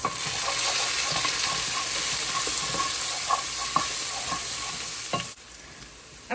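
Garlic sautéing in oil in a pot, a steady close sizzle and hiss with faint stirring scrapes, loud and continuous before easing slightly near the end.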